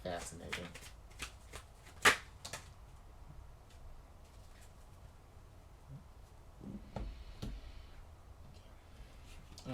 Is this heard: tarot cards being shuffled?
yes